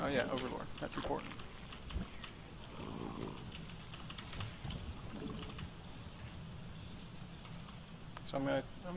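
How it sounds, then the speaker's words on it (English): Vigorous typing on a SteelSeries 6GV2 keyboard during a StarCraft match, with rapid fast keystrokes clattering steadily throughout, partly under a voice talking. "Very vigorous typing there."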